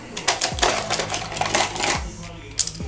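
Small plastic tile spacers clatter and tick as they are stacked by hand during curbless shower prep on a concrete slab, a run of quick close clicks and taps with a sharper knock near the end.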